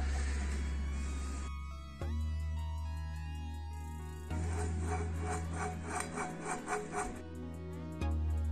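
A worn bearing from a Veteran Abrams electric unicycle grinds and rasps with sand inside as it turns freely without load, a close, continuous gritty scraping with a few rhythmic clicking pulses.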